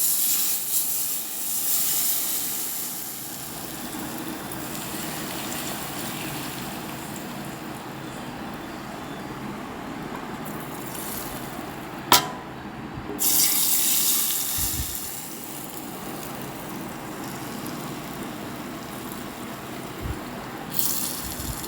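About 600 ml of heated oil poured into two lemon pickle jars, making a continuous close hissing pour that runs for most of the time, broken by one sharp click and a few soft knocks.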